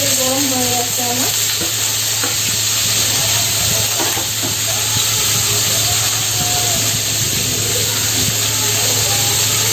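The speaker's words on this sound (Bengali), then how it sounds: "রিফাইন অয়েল দিয়ে ফার্স্টে পনিরটাকে যে বললাম শ্যালো ফ্রাই করব।" Paneer shallow-frying in hot refined oil, a steady, loud sizzle and hiss that carries on throughout, with occasional soft stirring clinks in the pan.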